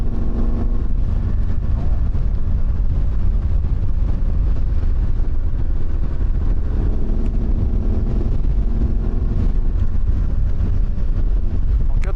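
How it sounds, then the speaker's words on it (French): Steady rumbling wind buffets the microphone of a rider on a Yamaha 750 XTZ motorcycle in the Vercors, a constant low roar throughout with no clear voices. "Là il y a du vent, ça fait du bien."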